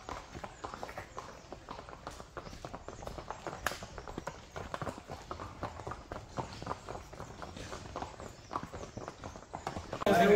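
Horse hooves clip-clop steadily along a trail at Matheran hill station during a ride back from a viewpoint, a continuous, even rhythm of moderately close steps.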